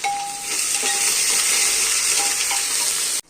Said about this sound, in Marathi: तेल गरम झालेलं आहे। कांदा, 2 मोठे कांदे घेतले आहेत, परतून घेऊया